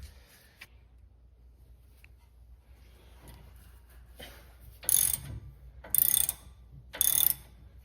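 A ratchet wrench loosens rear brake bolts on a Ford F-150, three short, sharp ratcheting bursts about a second apart after a quiet stretch with faint background noise.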